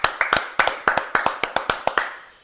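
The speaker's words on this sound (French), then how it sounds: "On peut vous applaudir" A small group claps briefly for a guest on a French talk show, a dozen or so sharp, close hand claps in a quick uneven rhythm that thin out and stop after two seconds.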